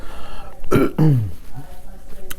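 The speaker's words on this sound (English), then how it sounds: "my burping thing is still there." A short throaty burp followed by a second guttural belch, close and fairly loud, against a quiet indoor background.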